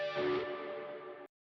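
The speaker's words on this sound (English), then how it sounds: "I loved the reverb sound when I like stopped the string." An electric guitar string is stopped and keeps ringing through a reverb effect: one sustained, softly decaying tone that cuts off abruptly after just over a second.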